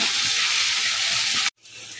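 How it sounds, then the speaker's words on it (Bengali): Onions fry in a pan for a Bengali ghugni recipe, a loud, dense, steady sizzle that cuts off abruptly, then returns fainter. "পেঁয়াজটা হালকা করে ভেজে নেওয়া হয়ে গেছে।"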